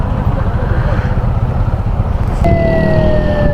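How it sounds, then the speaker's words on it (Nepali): An ambulance siren wails in a traffic jam on a narrow road near Bhimphedi, Nepal. Its steady falling tones come in partway through over a loud rumble of idling vehicles. "एम्बुलेन्स छ यार"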